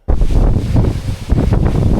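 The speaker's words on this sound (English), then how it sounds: "this is going to be windy as hell" Heavy wind buffeting a microphone outdoors in Spain, loud low rumbling gusts that start abruptly and continue without a break.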